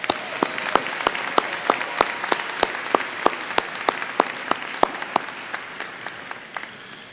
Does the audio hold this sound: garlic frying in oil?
no